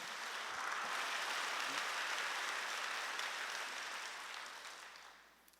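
A church congregation breaks into sustained applause during a sermon, with dense, steady clapping that fills the room and then gradually fades away near the end.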